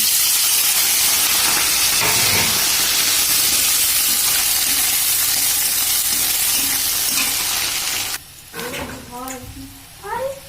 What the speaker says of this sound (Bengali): তেল দিয়েছি তেলটা আমার গরম হয়ে গেছে এবার আমি এই যে পেঁয়াজ কুচিয়ে রেখেছি পেঁয়াজটা দিয়ে দিচ্ছি